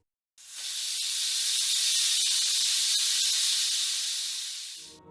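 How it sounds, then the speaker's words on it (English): A pressure cooker hissing: a loud, steady, sharp hiss of escaping steam that starts abruptly, holds for about four and a half seconds, then tapers and stops. "the sound of your neighbor's pressure cooker hissing like an irate banshee"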